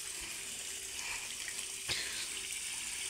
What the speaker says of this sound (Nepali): यहाँ चाहिँ पानीको धारा हो।